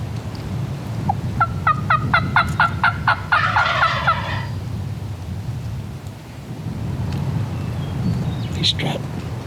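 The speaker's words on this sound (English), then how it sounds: "He's strutting. Yeah. I can hear him drumming." Wild turkey longbeard gobbling outdoors, a rapid burst of stacked gobble notes followed by a short rattling call, with a low, steady rumble of wind or distant thunder beneath and a brief sharp call near the end.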